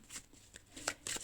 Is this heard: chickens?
no